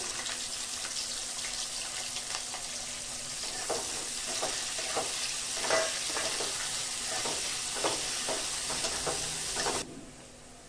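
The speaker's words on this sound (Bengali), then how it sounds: "তেলটা ভালো মতো গরম হয়ে গেছে, তেলে আমি 2টো পেঁয়াজ কুচিয়ে দিয়ে দিলাম।" Two chopped onions frying in hot mustard oil in a kadai, a steady crackling sizzle with repeated scraping stirs through the middle, cutting off abruptly near the end.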